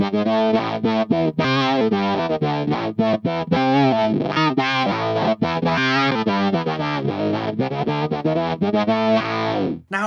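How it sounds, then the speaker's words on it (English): Line 6 HX One pedal running a legacy synth simulation, a buzzy distorted synth-like guitar tone playing a busy run of choppy notes, loud and continuous. "Let's hear one of these strange legacy synth simulations that were in the M series of pedals."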